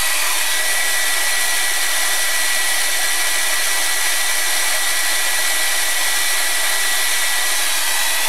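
A hair dryer blows continuously and loudly at close range, drying thick dark paint on an art journal page, a steady unbroken whoosh throughout.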